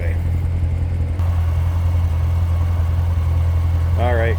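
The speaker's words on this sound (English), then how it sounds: "Listen to that. LT4 supercharged." A loud, deep rumble from the supercharged LT4 V8 of a 2016 Chevrolet Corvette Z06 idling steadily and close by, with a short voice-like sound near the end.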